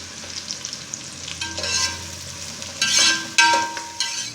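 Onions fry in a pan for chicken biryani, giving a steady close sizzle broken by louder bursts as a spoon stirs and scrapes through them.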